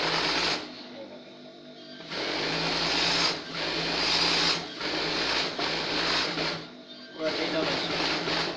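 A sewing machine double-stitches a salwar seam in loud bursts of rapid stitching, stopping and starting several times with short gaps between runs.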